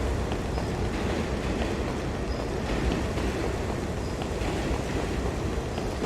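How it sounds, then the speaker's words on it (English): Trains passing in the 2009 FPS Creator video game Mob Ties Tokyo, a steady, dense rumbling roar that holds at an even loudness throughout with no voices over it. "it's a lovely sound effect of these trains passing"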